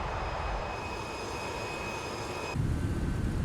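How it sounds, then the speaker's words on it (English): Engines of an MD-11 airliner in Microsoft Flight Simulator 2020 give a steady broadband roar with a thin whine. The roar deepens and swells slightly near the end, with no talking. "Plane sounds pretty good."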